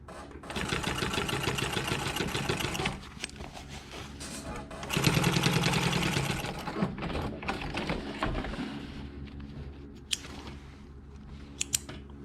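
A sewing machine runs in sustained bursts while stitching across the cuff of a shortened dress shirt sleeve, with a brief pause between runs and a few clicks near the end.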